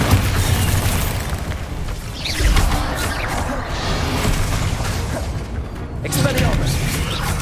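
Bombarda explosion spells going off in the Hogwarts Legacy video game, a boom rising amid steady battle noise with a voice calling out spells.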